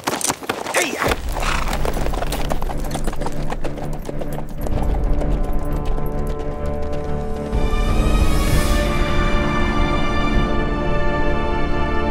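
Several horses clip-clop in a steady trotting rhythm, close and loud, as a dramatized riding effect, with a brief whinny and a low murmur of voices in the background.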